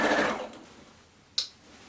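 A sewing machine runs a decorative stitch on a baby quilt, a steady whirring burst at the start that fades out, followed by a brief sharp click near the end.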